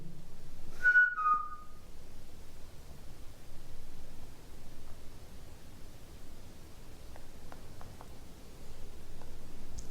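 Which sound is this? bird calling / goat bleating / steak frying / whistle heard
whistle heard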